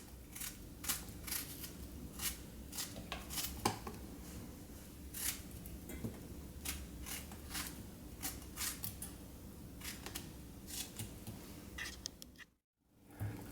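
Knife chopping fresh strawberries into small pieces for a crispy crepe dessert, a steady run of soft close taps and crisp cuts on a board, fairly quiet, with no talking.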